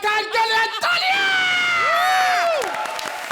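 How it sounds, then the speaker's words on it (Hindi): A studio audience on a comedy show cheers and applauds a new judge, a dense crowd roar with whoops and shouts under rising music tones, sustained and loud throughout. "हमारे नए जज अरबाज खान के लिए तालियां!"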